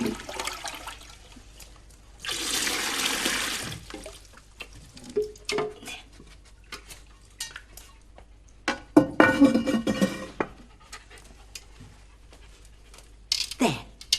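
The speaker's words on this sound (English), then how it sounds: "The water goes down the pipe, into the loo, and flushes it out." A toilet flushing as water runs down the pipe into the loo, a loud rushing surge that briefly fills the scene and then gives way to trickling and dripping, with people talking around it.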